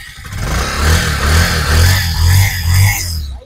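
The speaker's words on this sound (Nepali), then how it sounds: "म एकचोटी स्टार्ट गरेर कन्डिसन पनि सुनाइदिन्छु" A Bajaj Pulsar 150 motorcycle idles and is revved in a steady series of rising throttle blips, loud and close, with a low engine rumble between them.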